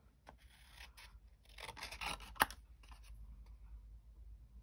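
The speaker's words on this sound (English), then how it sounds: "So let's fussy cut this." Paper being fussy cut by hand with scissors, heard as faint, close snipping and rustling with one sharper snip partway through and no talk.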